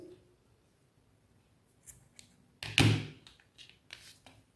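A single sharp snip of scissors cutting excess yarn on a crocheted amigurumi doll, near and brief, with a few faint taps around it.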